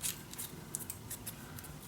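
Scissors snipping through scrapbooking paper for a winter mini album, a run of quick crisp cuts spread across the moment with a steady low background hum.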